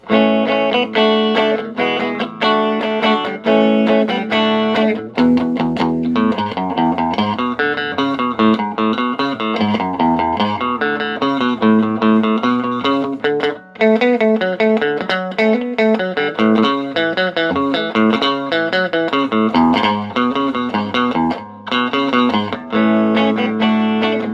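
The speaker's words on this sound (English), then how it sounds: "we will listen to the guitar just dry. It's just the amplifier, no additional effects." A clean electric guitar plays a melodic riff dry through a Cave Valley Amps Mini 10 Twin amp with no effects, bright, close and continuous, with chords and single notes ringing out.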